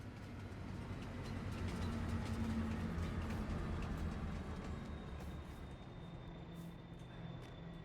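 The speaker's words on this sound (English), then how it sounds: "here comes the train" A train rumbles past in Farming Simulator 22 on the Zielonka map, a steady low rolling drone with clattering wheels that stays loud for several seconds, then slowly eases off, with a faint high tone near the end.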